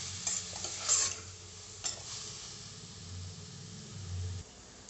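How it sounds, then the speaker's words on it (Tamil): Beetroot sautéing in oil in a pan while being stirred: faint, steady sizzling with a few soft scraping stir strokes, close by and with no voices. "எண்ணெயிலே பீட்ரூட்டு அரை வேக்காடு வேகிற அளவுக்கு நல்லா வதக்கி விடலாம்."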